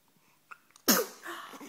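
A single sharp sneeze breaks out close and loud after a few faint breaths, then trails off into soft breathy noise.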